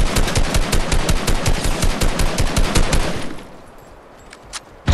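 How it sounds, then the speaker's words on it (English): Rapid automatic gunfire from a video game battle royale match, a dense loud burst of repeated shots for about three seconds that then cuts off, leaving near quiet with a faint click and a sharp sound at the end. "Yes, they are. They're shooting at me."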